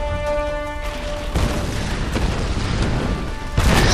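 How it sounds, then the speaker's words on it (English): A rumbling explosion in the Tomb Raider video game fills the scene with sustained booming and crackling debris, swelling louder near the end over a faint musical tone. "Avoiding every explosion with the smallest increment possible."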